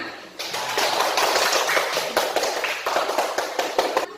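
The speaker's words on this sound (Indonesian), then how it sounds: "Bagus. Tepuk tangan." Students in a classroom clap together, a dense burst of many hands close by that holds steady for several seconds with no talking over it.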